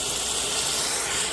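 Steady broadband hiss of steam rising as water is poured into a hot Instant Pot with sautéed meat for a Mississippi pot roast stew, continuous and fairly loud, with no talking.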